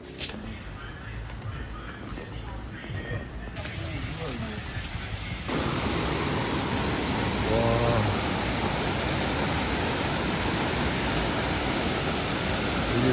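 A broad, steady rushing roar of falling water swells in and fills the scene, loud and continuous, with faint voices underneath at times.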